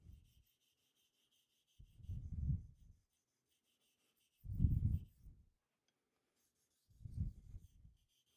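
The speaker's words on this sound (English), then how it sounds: "you guys can hear the difference in the feedback, right? A lot more smooth, not so gritty" A blade is honed on a Washita sharpening stone in three separate close, smooth rasping strokes with quiet pauses between them.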